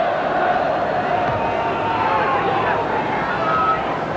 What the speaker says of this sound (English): That certainly enlivened the racecourse crowd.